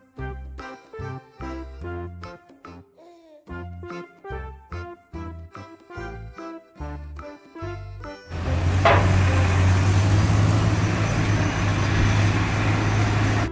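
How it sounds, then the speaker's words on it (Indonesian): After a plinking musical jingle, a blue dump truck's engine cuts in with a sudden loud onset and settles into a close, steady rumble for the remaining seconds. "Truk dump biru."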